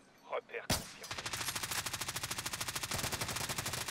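Automatic gunfire in the Warzone video game: a sudden loud shot followed by a long, fast, evenly spaced burst of rapid fire, close and dominant, with a brief voice just before it.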